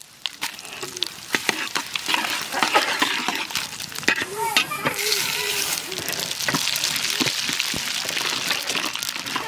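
Bay leaves and dried red chillies sizzle in hot oil for a cauliflower curry, a close, bright crackle with sharp pops and stirring scrapes running continuously.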